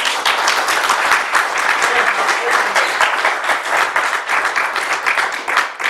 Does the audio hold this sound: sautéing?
no